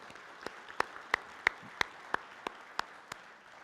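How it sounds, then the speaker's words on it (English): Rotary club audience giving a round of applause for Dave Zenk: a sparse, evenly spaced run of about ten crisp claps, fairly faint and with no talk. "One more round of applause for Dave Zenk."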